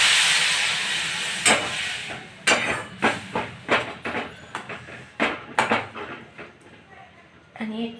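Water poured into a hot pan of guava curry with niger seeds, an immediate loud steam hiss that slowly fades, followed by a series of close spoon scrapes and clinks against the pan while someone talks.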